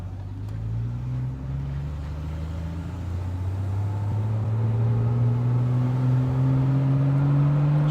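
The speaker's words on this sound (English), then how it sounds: "She's got a nice little hum in the exhaust." A 1969 Triumph TR6 drives along with a steady engine drone and low exhaust hum, pitch rising gradually as it gathers speed, heard from inside the car with no talking.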